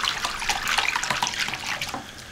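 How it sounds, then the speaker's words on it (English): Sauce for pulled pork poured into a pan, a continuous close splashing, trickling flow with dense liquid spatter that eases off toward the end. "Get your sauce in the pan."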